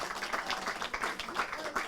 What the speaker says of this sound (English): Round of applause for Beck.